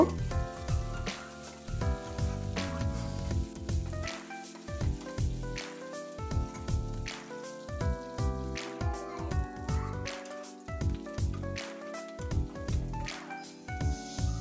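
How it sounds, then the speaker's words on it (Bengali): Chopped onions and green chilies fry in oil in a pan, crackling and sizzling continuously with repeated sharp pops and stirring knocks, fairly close. "পেঁয়াজটা আমার লাল লাল ভাজা হয়ে আসছে"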